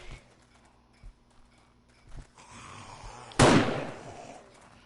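A single sharp gunshot cracks loud and close in a horde-mode shooter set in Hub City, after a few faint thumps and soft game noise.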